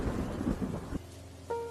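Heavy thunder rumbles over a village during a rainy night storm, a loud low roll that breaks off abruptly, leaving quieter rain and a faint steady tone.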